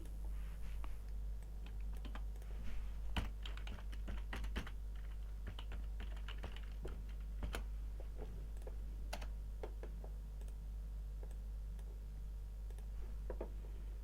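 Quiet keystrokes on a computer keyboard while entering a formula in a LibreOffice Calc spreadsheet, irregular clicks and taps scattered over a steady low hum, no voices.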